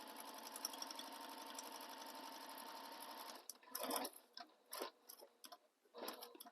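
A sewing machine stitches around the rectangle edge of a fabric sling bag, running in a steady, close mechanical whir for a few seconds, then stopping for pauses and short bursts of single stitches.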